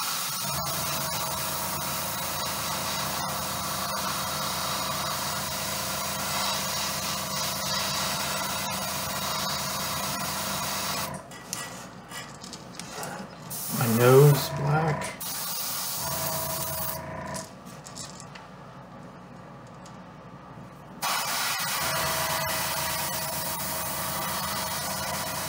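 Aerosol spray paint dusting black over a perch: a steady, close hiss runs for about eleven seconds, gives way to a quieter gap with some brief handling clatter, then returns as another sustained hiss.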